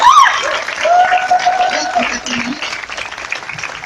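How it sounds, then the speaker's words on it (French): Audience applause at a church wedding celebration in Dabou rises loud and steady throughout, with a voice speaking or chanting over the clapping. "Vos applaudissements là"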